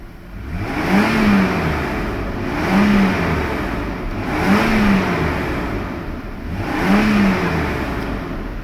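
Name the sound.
car engine revving to red line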